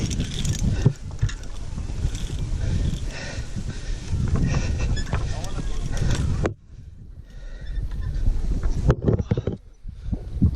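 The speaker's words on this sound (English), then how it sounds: "Oh, that's a wind." Wind blows hard and steadily, a broad rushing roar buffeting the microphone outdoors, then drops away briefly before gusting back; people talk beneath it.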